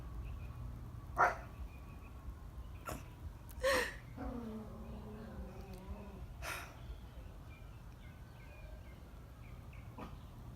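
A dog lets out a few sharp barks, each one close and distinct and spaced several seconds apart, over a steady low background hum with no talking.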